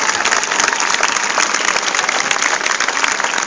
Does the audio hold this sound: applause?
yes